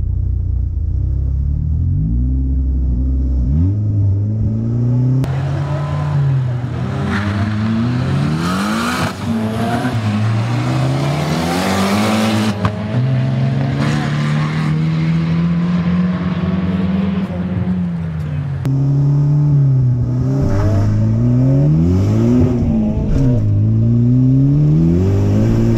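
A car launches hard with its tires spinning, and the engine climbs and rises and falls as it revs. The loud, close roar holds steady for a long stretch with wheelspin noise mixed in.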